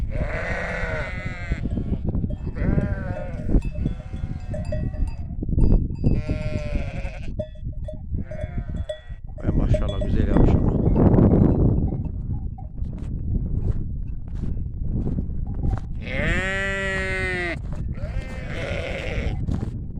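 Sheep in a flock kept by Konya herders bleat repeatedly, with several overlapping, wavering calls close by. A loud bleat stands out near the end, over a constant rustle and shuffle, and a person speaks briefly.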